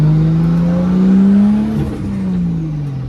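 Nissan R32 GTS4 coupe engine running rich with an untuned fuel pressure setup, a loud close idle that rises into a rev and eases back down, no talk.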